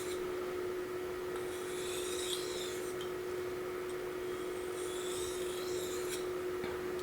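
A knife edge is stroked across a Shapton Glass 1000 water stone in a steady, soft rasping rhythm, with faint repeated scrapes under a constant low hum.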